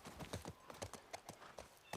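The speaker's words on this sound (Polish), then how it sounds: "To jest nieintuicyjne chodzenie koniem." Ridden horse hooves clip-clop in The Last of Us Part I, a quiet, steady run of distinct hoof strikes at an even walking rhythm, heard alone without talk.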